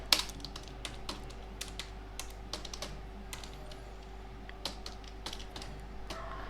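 Computer keyboard typing while writing a Java print statement, a light irregular patter of individual key clicks over a quiet, steady background hum.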